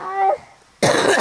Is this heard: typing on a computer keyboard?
no